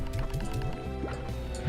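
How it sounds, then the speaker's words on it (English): Water sprayed from a gun onto slimes in Slime Rancher gives quick bubbly gurgles and splashy drips, a short rapid burst of liquid sounds over a steady game tone. "just shot them with a bunch of water"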